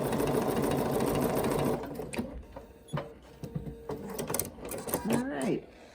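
A Bernina sewing machine runs a sturdy stitch with 50 weight thread, giving a steady, close mechanical whir for about two seconds before it stops and a person starts talking.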